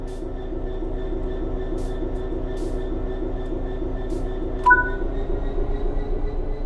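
Electric train in the video game Train Sim World 3 starting to move, with a low steady hum and faint whine building under cab noise, plus one sharp electronic beep partway through.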